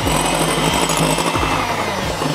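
An electric mixer on low speed beats chiffon cake batter with sugar for a cheese chiffon cake, giving a loud, steady whirring drone with a rattling, grinding texture throughout, with no one talking.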